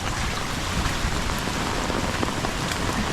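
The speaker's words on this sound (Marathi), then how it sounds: "थांबायचं नाव नाही घेत आहे आज पाऊस" Heavy monsoon rain pours down in a Konkan village beside a flooding river, a dense, continuous roar of drops hammering surfaces with no letup, loud and close.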